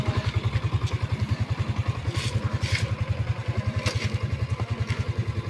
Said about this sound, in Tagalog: Maririnig mo yung tunog ng makina. Parang umaaray yung makina.